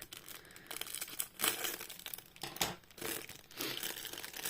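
A small plastic bag from a sensory fidget toy kit is opened up close, giving soft crinkling and rustling with a few sharper crackles and tearing bursts, and no talk over it.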